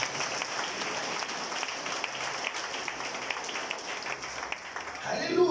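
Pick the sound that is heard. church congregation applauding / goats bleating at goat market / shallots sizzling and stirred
church congregation applauding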